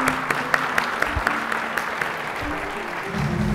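Moderate audience applause for winners at a new media conference, a steady patter of clapping with a few sharp individual claps standing out and a low murmur underneath.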